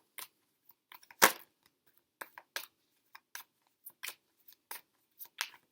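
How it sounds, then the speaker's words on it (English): A deck of cards being shuffled, heard as a quick series of crisp, separate papery snaps and flutters with one louder burst early on, close and fairly quiet, with no talking. "Let's give these cards a good shuffle."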